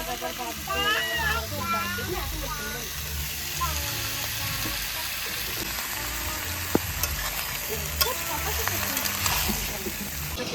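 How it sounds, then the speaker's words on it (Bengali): Potatoes fry in oil for a mutton curry, a steady loud sizzle with stirring scrapes, while someone talks over it. "খাসির মাংস রান্না করার জন্য আলুটা ভেজে নিচ্ছি"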